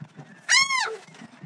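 Seagull calling near a sailboat moored off-grid, a single loud harsh screech lasting about half a second, close by, with quiet background before and after.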